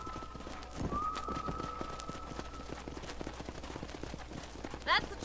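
Horses at a corral in the Western video game Red Dead Redemption, with hooves clip-clopping in an uneven rhythm over a low ambient bed and a short whinny near the end.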